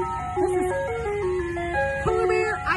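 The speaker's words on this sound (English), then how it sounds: "This ice cream truck is coming through Central Park playing its music." An ice cream truck in Central Park plays its familiar jingle, a bright repeating melody that carries steadily and fairly close over faint background noise.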